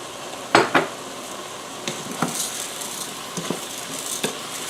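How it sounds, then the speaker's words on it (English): About one and a half cups of risotto rice toasting in a pot for mushroom risotto, with a soft steady sizzle under several sharp scrapes and knocks of a spoon against the pot, heard close with no talking. "And we're going to let it cook in the pot."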